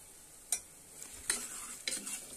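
Onions frying in a pressure cooker pot with salt and turmeric, stirred with a utensil: three distinct scraping strokes over a soft, steady sizzle, close and moderately quiet.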